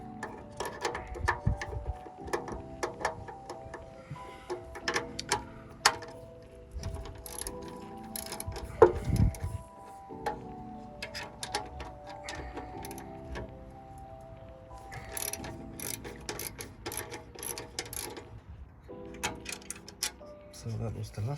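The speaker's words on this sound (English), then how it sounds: "I'm just undoing the three 10mm bolts" A ratchet undoes three 10mm bolts on the exhaust mount of a BMW F87/F22/F21/F20, giving bursts of quick clicking with metallic clinks and pauses between them, interrupted by occasional nearby speech.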